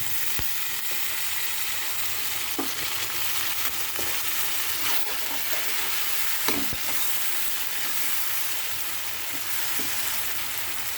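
Potatoes and onions fry together in a pan with a steady, even sizzle. Occasional scrapes and clicks of stirring sound over it, fairly quiet and close, with no talking.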